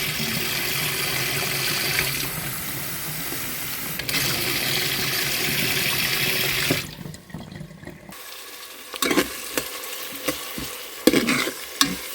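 Food frying and being stirred in a pan, with meat about to go in; a steady sizzle runs through the first seven seconds and then gives way to sparse clinks and scraping with a water-like hiss.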